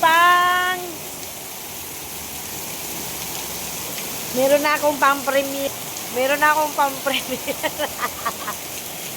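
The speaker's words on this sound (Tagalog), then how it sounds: "Grabe ang lakas ng ulan, guys." Heavy rain hisses in a steady, continuous wash underneath, while a person talks over it in short bursts and a high voice chatters near the end.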